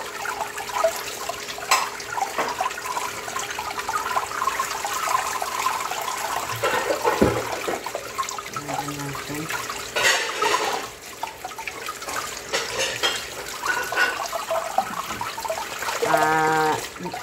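Young radish (chonggak) for allttari kimchi being rinsed under running water, a continuous splashing gush with drips and handling clatter throughout, close and fairly loud.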